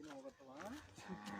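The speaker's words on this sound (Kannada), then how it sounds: "ಇದೆಲ್ಲ ದನ ಕರೆದ ನೋಡ್ರಿ ಒಂದು 15ರಿಂದ 20 ದನ ಕರೆದ ನೋಡ್ರಿ" A cow gives a drawn-out, wavering moo up close among a herd of about fifteen to twenty cattle gathered in Badami, Bagalkot, heard alone and fairly quiet.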